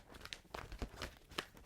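Tarot cards being shuffled by hand, giving a short run of crisp papery riffles and soft slaps in quick uneven bursts, close and fairly quiet, with no talking.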